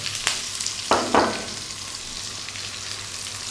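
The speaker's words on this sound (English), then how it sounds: "A few seconds in the hot oil. Then we're going to go in with the onion." Chopped onion frying in hot oil with curry leaves for a yellow dal, a close, steady sizzle with a couple of sharp spatula clacks against the pan early on.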